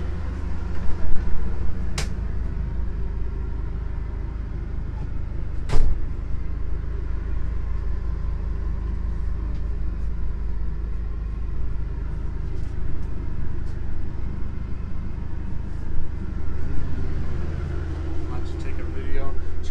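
A 2020 Tiffin Wayfarer 24 TW Class C diesel motorhome drives on a dealer plate, its steady low road rumble and engine drone continuous throughout, with a couple of brief clunks and rattles inside the cabin.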